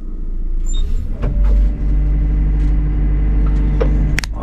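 A wheeled excavator's diesel engine runs loud and steady from inside the cab while it drives, with a deep continuous drone that swells briefly and a sharp hiss near the end.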